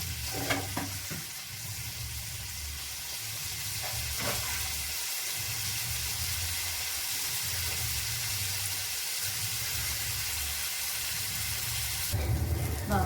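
Fish sizzles steadily in a hot pan for a home-style lunch fish fry, a continuous close frying hiss with brief stirring clatters near the start and a louder burst at the end; no one speaks.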